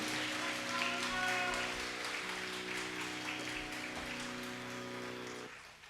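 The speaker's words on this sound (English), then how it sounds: "we get one more round of applause for that amazing performance by Kavya?" A hall audience applauds steadily after a classical dance performance, a dense wash of clapping with a sustained musical drone underneath before it cuts off near the end.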